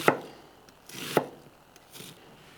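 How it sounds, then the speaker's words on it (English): Knife chopping through a yellow onion on a cutting board, three distinct crisp chops spaced about a second apart, close and clear with no talking. "Now, I want to cut up a yellow onion."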